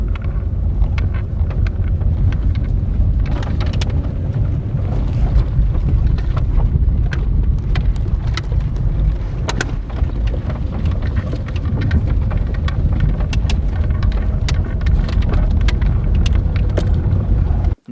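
A car driving through empty desert sand dunes in the Sahara, Algeria, with a steady loud rumble and wind buffeting the microphone throughout, plus scattered crackles and thumps.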